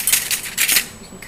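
Sculpting tool blade cutting down through polymer clay, giving a couple of quick, bright scraping clicks close by, short and crisp with no voices.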